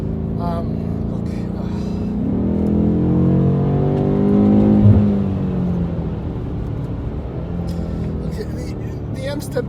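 A 2021 BMW M8 Competition Gran Coupé with M Sport exhaust revs and rumbles steadily, rising to a louder throaty peak midway before settling back, with a person talking over it.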